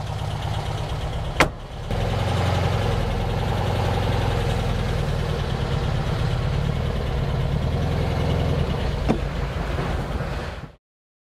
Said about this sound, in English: So I think our carburetor rebuild was spot on. It's really running great.